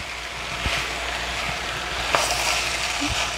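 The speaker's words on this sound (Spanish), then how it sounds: "Vamos a mezclar muy bien todo." Pasta with vegetables and chorizo sizzles steadily in a pan over low heat, with a few soft knocks from stirring beneath the constant frying hiss.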